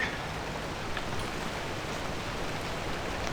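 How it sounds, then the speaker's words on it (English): Steady rain falls in the Pacific Drive video game, a dense even hiss without pauses, close and constant throughout with no voices. "Raining, unfortunately."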